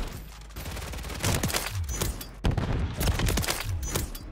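Rapid gunfire in a first-person shooter video game: repeated sharp shots from an iron-sight sniper rifle, loud and close, with bursts clustered in a dense, continuous barrage over game ambience.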